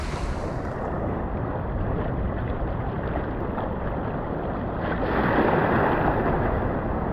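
Ocean waves roll onto a shore during traditional cast-net fishing, a continuous broadband wash of surf that swells louder toward the end, mixed with wind buffeting the microphone.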